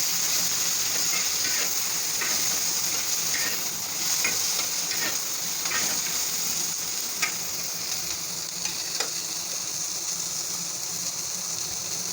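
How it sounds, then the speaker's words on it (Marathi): Onions frying in a pan on the stove, a steady close sizzle with a constant hiss and a few brief stir clicks and scrapes, with no voices. "तुम्ही बघू शकता कांदा आपला छान फ्राय झाला आहे"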